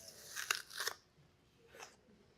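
An apple is bitten and chewed up close, two sharp crisp crunches in quick succession followed by a fainter third crunch, with no talk.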